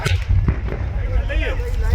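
Gas cylinders burst like bombs in a truck fire at a gas agency in Bareli, with dense low rumbling, crackling blast noise and sharp cracks throughout, loud and close.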